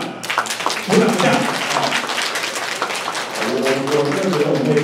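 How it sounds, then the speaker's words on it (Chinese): A seated audience at a panel forum breaks into a few seconds of scattered clapping for the executive director, the applause running under continued talking from people in the room. "我们先帮我们的执行长鼓掌一下"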